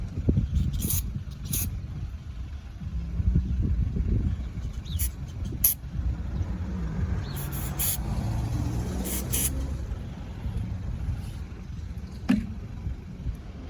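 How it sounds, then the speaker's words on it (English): Several short bursts of aerosol cleaner spray hiss onto a Nissan Xterra mass airflow sensor over a steady low rumble, the sharp sprays coming in clusters with pauses between. "we're going to take the spray. Let's get it in front of the camera, and we're just going to spray it."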